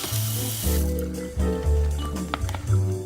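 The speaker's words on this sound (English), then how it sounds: "Drain the water and rinse them with cold water to reduce the temperature of the potatoes" Boiled potatoes drained and rinsed under cold tap water, a continuous splashing pour with shifting pitch as water fills and runs over them in a pot, close and fairly loud.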